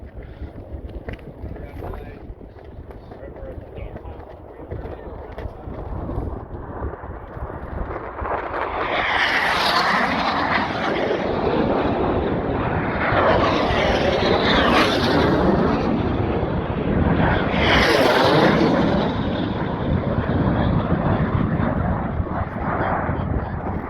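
Racing jets roar past the home pylon at the Reno air races, a loud swelling whoosh with repeated flyby peaks over wind buffeting and a spoken commentary voice.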